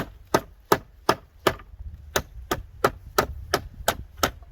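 A knife blade strikes a wooden pallet in a series of about a dozen sharp, dry chops, spaced unevenly but steadily, close and fairly loud.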